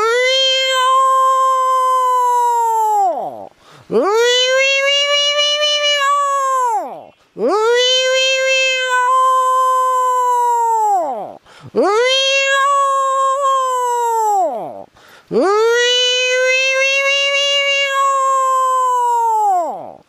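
A man imitates a tomcat's meow with five long, drawn-out wailing calls, each rising and then falling, loud and close with short pauses between them.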